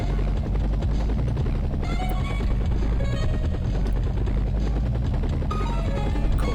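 A helicopter in a 1990s medevac video game, its rotor chopping steadily and loudly throughout, with electronic game beeps and tones layered over it.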